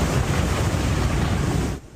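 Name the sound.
ocean waves on the Outer Banks after winter storm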